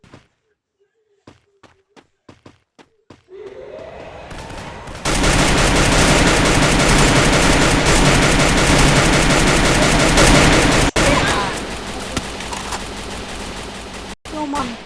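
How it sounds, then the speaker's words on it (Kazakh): Gunfire in the mobile shooter game Free Fire comes first as a few sparse sharp shots, then erupts into a loud sustained barrage of rapid automatic fire with a brief pause before it resumes, while players talk. "Мә, анда атысып жатыр"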